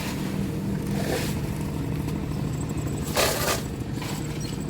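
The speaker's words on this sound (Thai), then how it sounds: "รถไถซิ่งไปเติมน้ำมันพี่น้อง" A farm tractor driving fast along a road on the way to refuel, with a steady, rough engine drone and wind rush throughout and a few louder surges, heard up close from on board.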